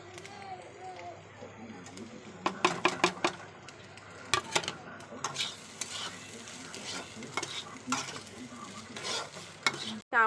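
Spices go one by one into a hot pan for homemade chow mein and are stirred, with a steady frying sizzle and bursts of clattering scrapes from the utensil against the pan.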